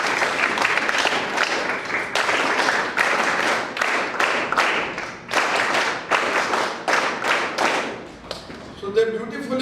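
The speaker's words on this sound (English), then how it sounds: "A big clap for them." Student audience at a school science programme at AECS-2 Mumbai clapping steadily for performers, a dense sustained round of applause with brief dips, fading near the end as a voice begins.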